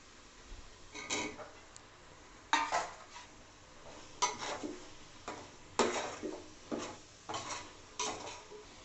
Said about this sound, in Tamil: நம்ம இப்போ மஷ்ரூமை சேர்த்து வதக்கிக்கலாம்.